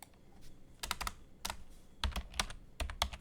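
Code is typed on a computer keyboard in quick clusters of crisp, close key clicks separated by brief pauses, with no talking.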